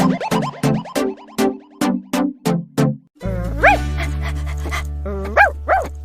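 A small dog barks in a quick series of sharp, close yaps, then lets out a few higher, whining yips over a steady low tone.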